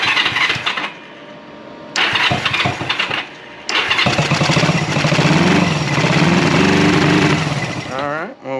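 A 1974 Honda CB360 motorcycle is cranked on choke, sputtering through several start attempts before catching and settling into a loud, close, steady idle, with a person speaking briefly over it.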